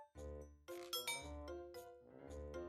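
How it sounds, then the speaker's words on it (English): A two-tone chime rings out, then repeats a little later, with bright ringing tones lingering between the strikes and a muffled thud in the middle. "And when I unlocked the doorbell rang."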